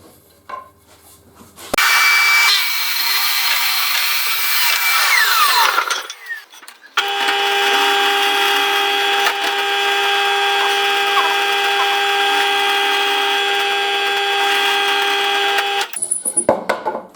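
A power drill bores dowel holes in pine bed parts, its motor whining close and loud in two long continuous runs, the second lasting about nine seconds, with a short pause between them.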